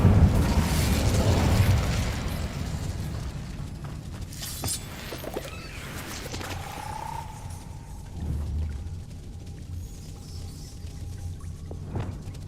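Incendio, a fire spell cast in Hogwarts Legacy, erupts in a loud burst of flame and crackling debris, then settles into quieter magical whooshes, chimes and a rising tonal hum before a final sharp pop near the end.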